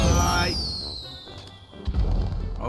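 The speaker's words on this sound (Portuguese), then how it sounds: "Ó o rojão aí." A firework rocket in GTA 5 whistles downward, then pops and crackles with a sharp burst near the end, with a voice briefly audible in the mix.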